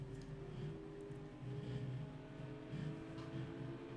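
A Ford MK IV race car engine in the video game Project CARS 2 drones steadily, its pitch rising and swelling as it approaches, loud and continuous with no talking.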